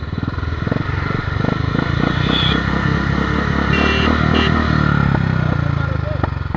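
Royal Enfield Bullet Classic 350 BS4 motorcycle, which has no electric starter, thumping steadily at close range after a kick-start with a loud, even single-cylinder rhythm, and a voice speaking briefly over it.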